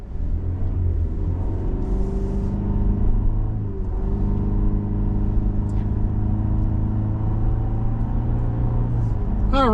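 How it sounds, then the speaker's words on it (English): A 2023 Cadillac CT5 Luxury AWD cruising on the road, heard from inside the cabin as a steady low engine and road rumble that holds at an even level throughout. "we're on the road in this 23 CT5 Luxury all-wheel drive"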